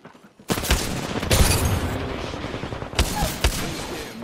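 Frag grenade blast in a shooter video game: a sudden loud explosive burst that sustains as a dense roar, followed by two further sharp bangs, with no talking.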